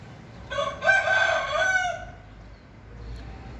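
A rooster crows once in a village in Kanchanaburi, Thailand, clear and fairly close, its call rising and holding for over a second before fading into quiet background.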